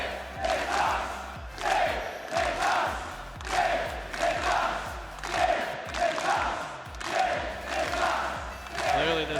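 An arena crowd at a Rocket League world championship in London's Copper Box Arena chants in a steady rhythmic beat, loud and sustained, with cheering swelling on each repeated call.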